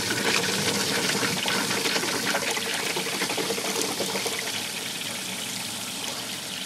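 Water rushes under pressure through the pipe of a solar water heater upgraded with sand and oil, making a steady, loud, close hiss and gush that eases off slightly toward the end.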